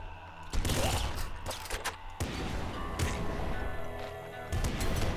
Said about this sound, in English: when I shot the bazooka, the portal caused the bazooka to blow up in front of me